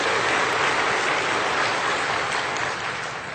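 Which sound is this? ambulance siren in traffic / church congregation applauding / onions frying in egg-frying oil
church congregation applauding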